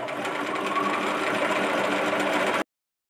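A sewing machine stitches fabric for a handmade fabric Advent calendar, running in a steady, continuous mechanical whir at close range for about two and a half seconds before stopping abruptly, with no talking.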